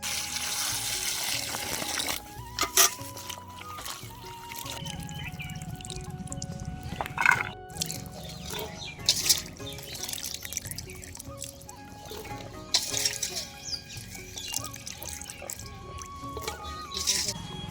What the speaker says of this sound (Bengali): ইঁচড়টাকে আমরা প্রেসারে দেওয়ার আগে সুন্দরভাবে ধুয়ে নেব